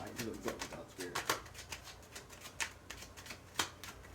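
Tarot cards shuffled by hand in a series of crisp riffling bursts, close and fairly loud, with brief pauses between each flurry and no talking.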